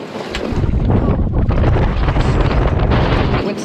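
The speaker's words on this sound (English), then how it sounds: "That's what 20 knots at anchor looks like." Strong 20-knot wind blows steadily around a sailboat at anchor, a loud continuous roar and buffeting across the microphone with rushing water and boat noise beneath, no voices.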